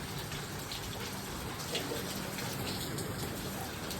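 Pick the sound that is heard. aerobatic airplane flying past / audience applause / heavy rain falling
heavy rain falling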